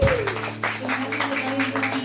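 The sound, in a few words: audience applause at a concert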